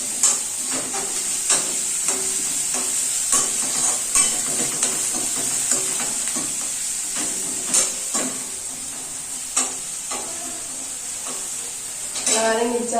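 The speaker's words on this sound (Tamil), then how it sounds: "அதை போட்டு அதுவும் நல்லா வதங்கட்டும்." Onion, ginger and garlic sautéing in a pan with a steady hiss of frying oil, broken by repeated scrapes and taps of a spoon stirring, close and fairly quiet.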